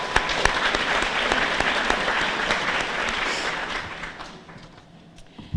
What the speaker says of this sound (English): I just want to give you guys an applause